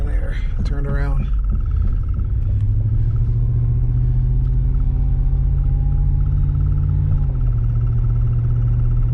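A car's engine rumbling low and steady while driving along a country road, loud and close throughout, with a slight pitch shift as it changes gear and a voice talking over the start.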